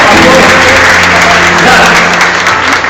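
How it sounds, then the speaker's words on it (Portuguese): A church congregation at a baptism service applauds, steady loud clapping filling the room throughout with a faint voice underneath. "Vamos aplaudir esse momento em nome de Jesus."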